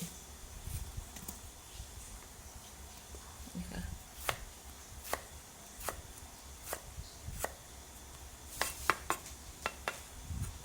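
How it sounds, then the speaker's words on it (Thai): A knife chops jicama against a cutting board in a few scattered sharp knocks, followed by a quicker cluster of cuts near the end, with faint background noise. "หั่นมันแก้วมาแช่เนาะแช่ไว้สักประมาณ 30 นาทีนะคะ"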